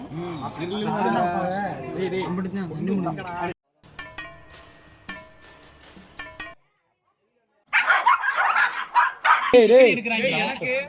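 A dog barks a few times between stretches of people talking and eating, with some clinking of dishes; the barks are short and mixed in with the voices.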